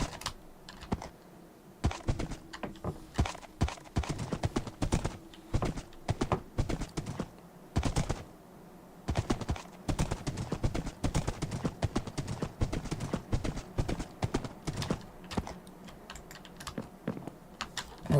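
Horse hooves clip-clop in the Minecraft video game in rapid, uneven bursts of sharp clicks, close and fairly loud, with short pauses between runs of steps.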